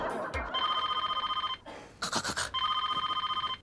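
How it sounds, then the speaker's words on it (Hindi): An old-style telephone bell rings loudly in a Hindi TV serial scene, two long trilling bursts separated by a brief pause, with a short clatter between them and no talk over the ringing. "किरण का फोन"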